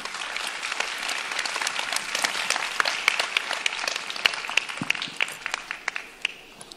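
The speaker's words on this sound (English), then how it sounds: "put a big applause for our keynote speaker" Applause from a convention audience welcoming a keynote speaker at a women's service organization gathering in Kuala Lumpur, a sustained crowd clapping that grows sparser with distinct individual claps near the end.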